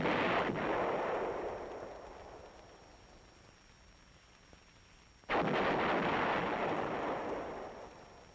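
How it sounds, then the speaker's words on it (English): Two heavy booming shots from an M102 lightweight 105mm howitzer, each a sharp blast trailing into a long rolling decay, the second arriving about five seconds after the first. "the M102, a lightweight 105mm howitzer"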